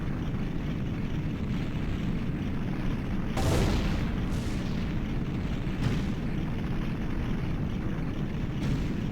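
Ganon's tower collapsing in the video game Zelda Ocarina of Time: a constant deep rumbling roar punctuated by several heavy crashing booms at intervals, loud and sustained with no speech.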